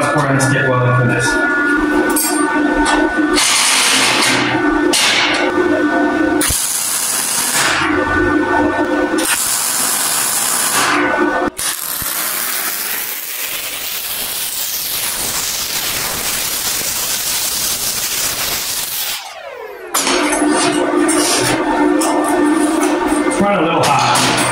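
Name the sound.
MIG welding metal with a Tooliom 200M welder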